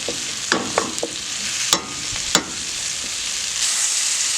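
Food frying in a pan keeps up a constant sizzle while a utensil flips the pieces, making several sharp scraping clicks in the first half.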